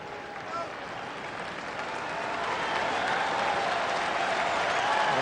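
A baseball crowd at a Diamondbacks at Colorado Rockies game cheers and applauds, a broad stadium roar that swells gradually louder, with a commentator talking over it.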